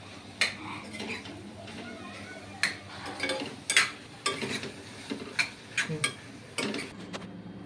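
Tomatoes and green chillies for a mutton drumstick curry added to oil in a pan, with a quiet background sizzle broken by irregular metallic clinks and scrapes of a spoon against the pot.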